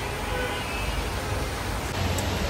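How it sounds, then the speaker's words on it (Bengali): Heavy rain falls outside a house beside a main road and a flowering tree, a dense, steady hiss of downpour that fills the whole moment. "ঝমঝমিয়ে বৃষ্টি হচ্ছে, খুব সুন্দর বৃষ্টি হচ্ছে"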